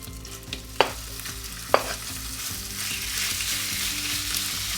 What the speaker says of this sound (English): after about 3 minutes of frying on one side, flip the chicken over